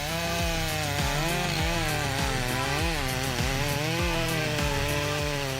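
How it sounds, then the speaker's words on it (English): A Stihl MS 661 chainsaw with a 91.1 cc engine cuts through a large tree trunk, its loud, steady engine drone continuous and close, with the pitch rising and sagging as the chain bites into the wood. "This chainsaw is truly a giant at chopping down giant trees, easily cutting through the trunks of towering giants."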